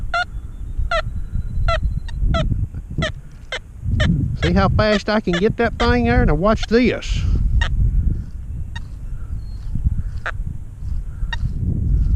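A Deus or Equinox 800 metal detector gives a low, warbling grunt tone over a round object amid short repeated beeps, while someone speaks briefly over it.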